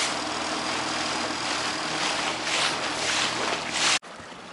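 A dinghy's outboard motor drones in a steady, loud hiss-like roar while motoring through a marina on the Dutch side of Sint Maarten, then cuts off abruptly near the end.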